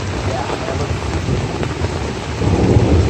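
Steady heavy rain during a thunderstorm on Blackrock Mountain along the Appalachian Trail, with a deep rumble of thunder building underneath, swelling louder near the end; no voices.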